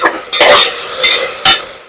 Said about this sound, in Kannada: ಇದು ನೀಟಾಗಿ ಫ್ರೈ ಆಗ್ಬೇಕು.